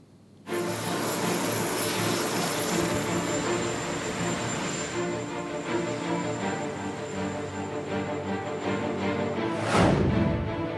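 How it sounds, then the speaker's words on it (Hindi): The Marine One presidential helicopter gives off a loud, steady engine roar with a high whine on top, sustained throughout and surging briefly near the end. "हम आपको मरीन वन हेलीकॉप्टर के अंदर लेकर चलते हैं"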